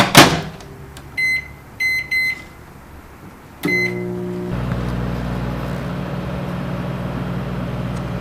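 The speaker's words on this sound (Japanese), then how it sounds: "ではご飯を電子レンジで温めます。" Microwave oven warming a bowl of leftover rice: a few short button beeps, then a door thunk and the steady low hum of the oven running alone, close and even.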